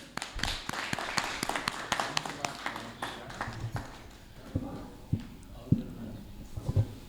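An audience at a Hindi poetry recital welcomes the chief guest with brisk clapping that starts fairly dense, then thins into scattered, sharper individual claps, heard at a moderate distance in a hall.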